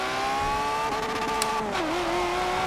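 A Lamborghini Aventador LP700-4 in the video game Forza Motorsport 7, its engine holding a loud, steady high-revving drone, pitch dipping briefly mid-run before climbing again, with no speech.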